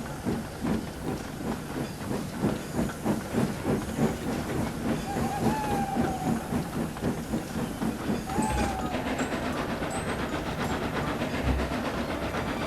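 Steady rhythmic chuffing of a train with hissing steam, a short faint whistle partway through, continuing at a regular pace.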